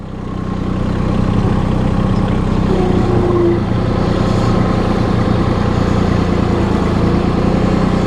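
A compact Massey Ferguson tractor engine runs steadily up close as the machine eases forward into its loader, a constant mid-to-low drone with no pauses throughout.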